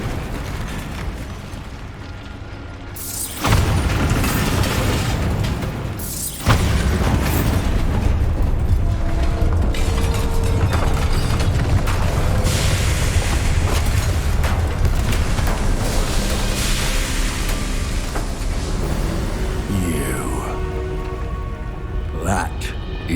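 A Bombarda spell blast in Hogwarts Legacy sets off a sudden loud, broad boom, followed by a long, dense roar of rumbling debris and crackle that carries on steadily behind game sounds.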